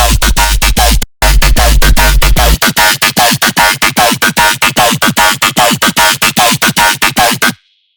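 Solo evolved dinosaur-style dubstep bass synth built in Serum, loud rapid growling stabs in a fast stuttering rhythm with a heavy sub-bass opening, cutting off abruptly.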